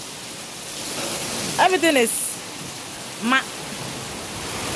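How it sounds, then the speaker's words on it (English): Steady rain pours outside on a rainy day, a constant even hiss of moderate loudness throughout, while a person speaks briefly over it. "it's still raining"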